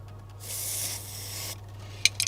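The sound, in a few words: spraying primer from aerosol can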